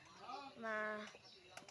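Pigeons giving a short, soft cooing call at close range, a single rounded burst with faint wing or rustling noise around it.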